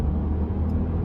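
Steady, close low drone of a 2016 Kia Ceed 1.0 GT Line engine pulling under acceleration in the rain, a continuous rumble with no voices over it.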